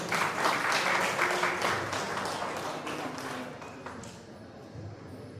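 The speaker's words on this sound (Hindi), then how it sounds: "उसके लिए जोरदार तालियां बजाइए।" A large audience at a Birsa Munda 150th birth anniversary celebration applauds loudly in a dense, steady clatter that gradually fades, with some voices mixed in.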